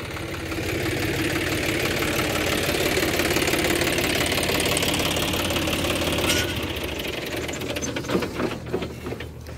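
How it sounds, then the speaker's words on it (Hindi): A tractor engine runs on a rice paddy farm with a loud, steady mechanical chugging that shifts near the end into a more uneven, knocking rhythm. "फिर से ट्रैक्टर ले आते हैं"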